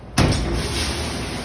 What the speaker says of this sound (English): And then all you're going to do is close the door.